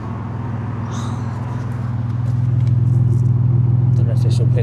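Inline-six car engine putting out a low, steady exhaust rumble from inside the car that swells slightly louder toward the end, with faint scraps of voice and clicks on top.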